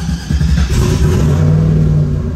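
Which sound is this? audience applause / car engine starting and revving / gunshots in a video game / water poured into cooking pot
car engine starting and revving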